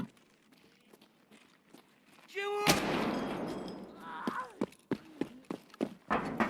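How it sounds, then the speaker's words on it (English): Uzi fire in Escape from Tarkov on the Factory map: a sudden loud burst of rapid shots, then scattered sharp cracks and echoing impacts trailing off nearby. "Just an Uzi."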